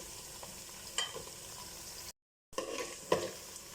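Onions fry in oil in a pan for Chennai-style chicken biryani, giving a quiet, steady sizzle with occasional stirring clinks, broken by a brief silent gap.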